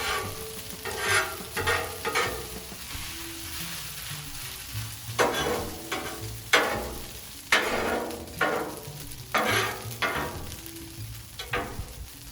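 Dehydrated hash brown potatoes sizzle steadily on a Blackstone flat-top griddle, with repeated scraping and turning strokes from a spatula cutting through the continuous frying hiss.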